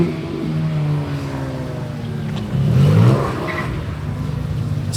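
A sports car revs past on a road amid a stream of exotic cars, engine note rising and swelling loudly midway before easing off, with other traffic noise behind.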